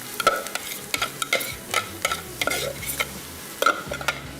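Chicken stirred into frying onions in a pan, with steady sizzling under repeated scraping and clanking strokes of a spoon against the metal, close and fairly loud in an uneven rhythm.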